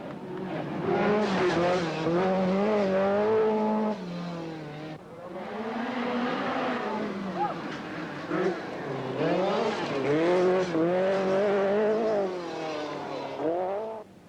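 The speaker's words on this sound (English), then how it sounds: "the Lancia's speed over the rougher stages is impressive" A 1983 Lancia rally car driven hard over rough gravel stages at the Portugal Rally, its engine loud and close, revving up and dropping repeatedly through gear changes.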